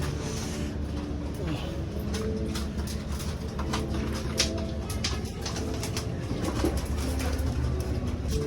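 Soft pigeon coos and faint bird calls outdoors, with people talking over steady background noise.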